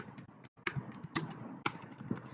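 Rapid typing on a computer keyboard, a steady patter of close key taps with a brief pause and a few louder strikes, no voices.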